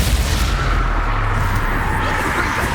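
Expulso spell explosion in the video game Hogwarts Legacy, a loud, dense booming blast with a rumbling low end that holds steady for nearly three seconds.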